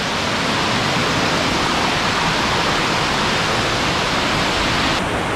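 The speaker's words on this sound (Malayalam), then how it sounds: "വളരെ മനോഹരമായ ഒരു വെള്ളച്ചാട്ടമാണ്." Small waterfall on Cheruvally Estate, a dense, continuous rushing roar of falling water, loud and close, with no voices over it.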